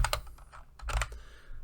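Code being typed on a computer keyboard: a quick run of close, crisp key clicks in short bursts with brief pauses, alone without talk.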